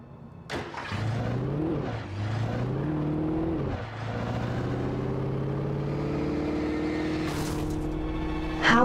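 Car engine from the video game Alan Wake, a steady droning hum that rises and falls in pitch as the vehicle accelerates and shifts, held loud and close throughout with a sharp burst near the end.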